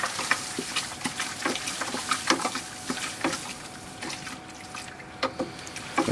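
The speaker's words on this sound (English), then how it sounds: "now we're going to mash in with the rest of the grains" Grains mashed into water for a home-brewed White IPA with raw wheat, a mash paddle stirring inside a grain bag, with repeated soft sloshing and splashing strokes at close range.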